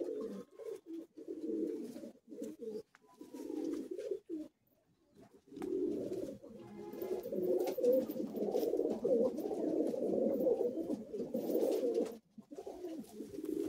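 Madrasi high flying pigeons cooing steadily in a Kolkata loft, a continuous low murmur of overlapping coos with a brief lull midway, close and moderately loud.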